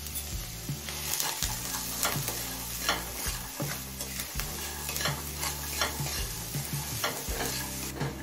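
Onion, peas and mixed vegetables frying over a medium flame, an even sizzle under a constant low hum with frequent stirring scrapes and clicks, no talking.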